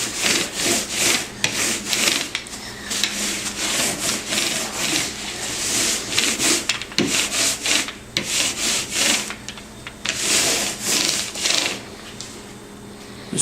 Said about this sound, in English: it will just sand the cork right off